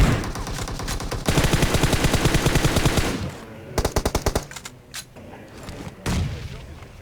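A Beryl assault rifle in PUBG Mobile fires rapid full-auto bursts, loud and near, followed by shorter clipped volleys and single distant shots.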